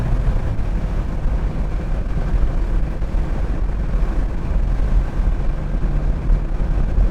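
A Porsche 964 Targa 911 being trail-braked into a corner, heard from inside the car as a steady, loud, low engine and road rumble that holds evenly throughout.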